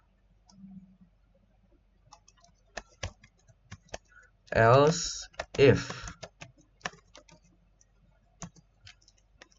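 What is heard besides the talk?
typing on computer keyboard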